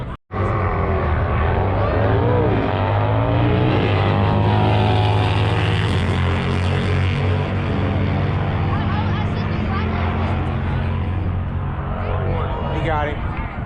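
A green race car at Sacramento Raceway roars loudly and steadily for the whole stretch, its engine note shifting as the driver lets off the gas, with crowd or voices faintly audible beneath.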